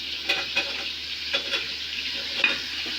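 Ash gourd is stirred into spice paste frying in a pan, giving a steady sizzle with soft, irregular spoon scrapes and knocks, close up and free of talk.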